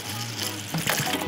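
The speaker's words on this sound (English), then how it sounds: "Just pour it straight into there." Tap water from a stored bottle is poured into a container, a short close gushing splash that strengthens toward the end.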